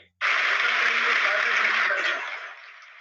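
Loud, dense audience applause breaks out suddenly as a guest arrives at a large gathering of about 3,000 people, then holds steady before tapering slightly toward the end.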